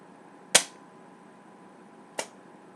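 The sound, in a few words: Nerf Triad 12 kg powerplant blaster firing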